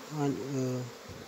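Young honeybees buzz on their first flight, a close, fairly loud drone that wavers in pitch for about a second before fading.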